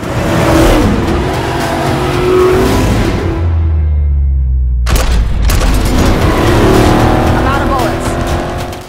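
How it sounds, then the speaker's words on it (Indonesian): A car chase with engines roaring and revving, tires squealing, and a heavy crash as a pursuing enemy car flips over, all loud and busy beneath a voice narrating. "Dengan senjata yang apa adanya, Sarah berhasil menggulingkan satu mobil musuh."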